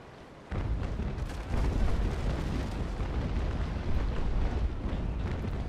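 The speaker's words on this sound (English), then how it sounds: "Once again, he's firing at me." Enemy warship cannons firing in Naval Action, an age-of-sail battle between Trincomalee frigates and the Belle Poule: a sudden loud, rumbling roar of gunfire that swells into a sustained barrage with heavier booming surges.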